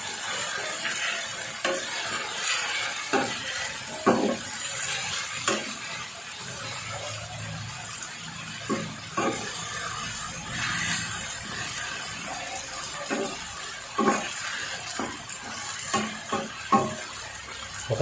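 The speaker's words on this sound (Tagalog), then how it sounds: "Mix it." Shrimp with black pepper and seasoning mixture being stirred in a cooking pot, with repeated scraping and clinking strokes at an irregular rhythm over a soft sizzle, close and moderately loud.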